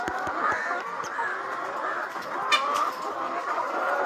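Native country chickens on a farm near Azhikode, Thiruvananthapuram, give soft clucks and calls over a steady low barnyard murmur, with one brief louder squawk partway through.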